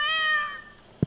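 A cat in the Stardew Valley video game gives a single clear, drawn-out meow lasting about half a second, followed by a short soft thump.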